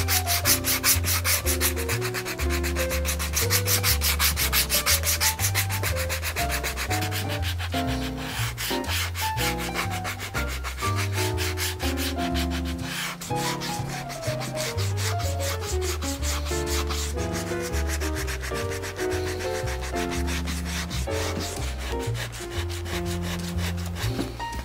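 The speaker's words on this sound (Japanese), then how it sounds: "一回サンドペーパーで鳴らしていきます。" Sandpaper rubs along the edge of a leather shoe sole in quick, continuous back-and-forth strokes, a dry scratchy rasp running steadily under background music.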